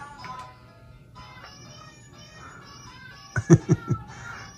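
A toy cat gives a few short electronic meows in quick succession near the end, after a stretch of faint tinny background tones.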